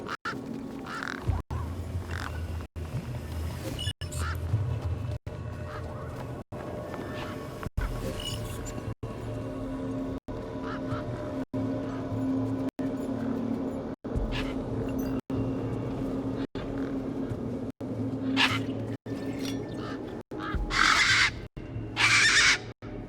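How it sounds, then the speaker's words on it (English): Desert birds call in the Beyond a Steel Sky game world, with harsh crow-like caws and quacking squawks repeating over a steady low ambient hum and occasional game sounds. "These were tough desert birds."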